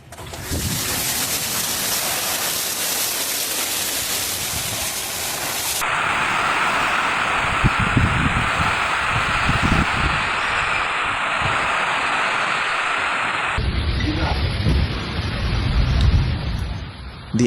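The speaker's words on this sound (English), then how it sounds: "supercell thunderstorm developed over the Langhe region and struck Belvedere Langhe with hailstones measuring approximately 2 to 4 centimeters in diameter" Supercell thunderstorm over the Langhe region of northern Italy, hitting Belvedere Langhe with hailstones 2 to 4 centimeters across: a steady, dense roar of heavy rain and hail on surfaces, continuous and loud throughout with no voices.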